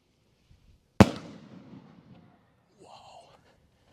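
A single Devil Rocket firework bursts with one sharp, loud bang followed by a crackling tail that fades over about a second, then a brief faint whistle-like sound.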